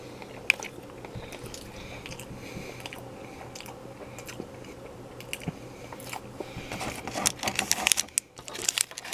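Imitation crab sushi roll with sesame seeds being bitten and chewed up close, soft repeated mouth and crunching sounds at a low level with a few sharper clicks near the end, no talking.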